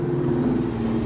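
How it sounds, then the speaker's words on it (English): A loud car rumbles past in a residential neighborhood, a steady low engine drone with a strong, even roar that holds for about a second without fading. "got the loudest car in the neighborhood"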